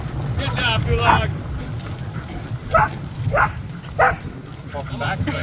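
Sled dogs in Juneau, Alaska bark and whine in sharp, repeated bursts over a steady low rumble, with a voice talking nearby.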